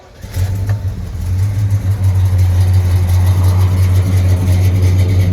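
A 1965 Pontiac GTO with headers and a swapped-in 400 V8 cranks and catches, then settles into a loud, deep, steady idle close by, with no talking over it.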